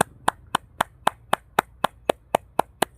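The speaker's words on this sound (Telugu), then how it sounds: "క్లాప్స్ కొడుతున్నాం" A group claps in unison in gratitude after meditation, twelve sharp, evenly spaced claps about a quarter second apart, close and crisp with quiet gaps between them.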